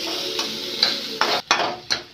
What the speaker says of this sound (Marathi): आता हा कांदा चांगला परतवून लालसर